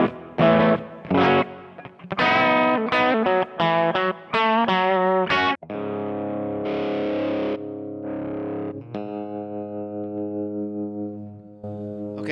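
Electric guitar played through a Kemper amp preset loaded with distortion and built-in effects, a series of choppy overdriven chords followed by long sustained, shimmering notes, loud and alone.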